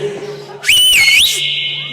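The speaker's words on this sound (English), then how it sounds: "Sure, I'm going to whistle." A man gives a single loud whistle to call people together. The short, sharp blast rises and falls in pitch, sounds close and piercing, and is followed by a faint steady hum.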